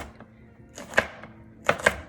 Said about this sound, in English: I'm going to cut the garlic up a little bit